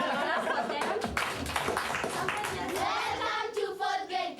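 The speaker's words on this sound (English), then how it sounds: "let's clap for them." Fourth grade girls clapping for classmates, a quick, lively patter of hands with chuckles and chatter mixed in, fairly close and steady through most of the stretch.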